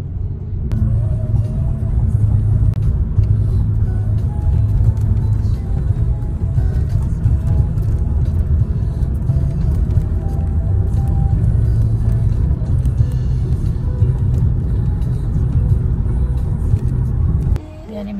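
A car drives along the road, heard from inside as a steady, loud low rumble with a constant engine drone that continues unbroken.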